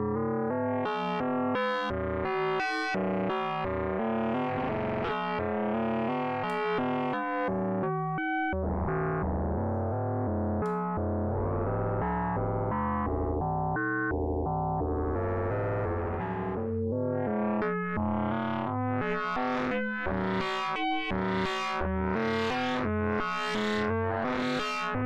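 Three Body synthesizer module playing chords with modulation, bright distorted tones shifting and pulsing in shape, loud and continuous with no speech.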